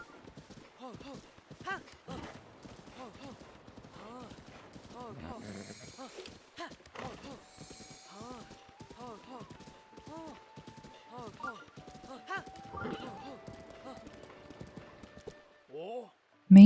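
Horse hooves clip-clopping steadily in the video game Breath of the Wild during a horse taming competition, a continuous rhythmic trot running under game music and occasional speech.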